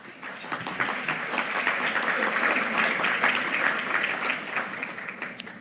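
Audience applause at a Cayman Islands public talk, a dense and sustained wash of clapping from a sizeable crowd that holds steady for several seconds, with faint voices underneath.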